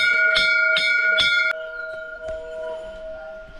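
A metal temple bell is struck several times in quick succession, then left to ring out with a long, fading shimmer.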